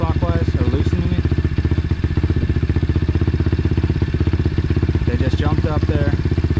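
An Apollo Z20 pit bike engine runs steadily at close range during a carburetor adjustment, a rapid, even, putting thrum with slight shifts in RPM, while someone speaks over it now and then.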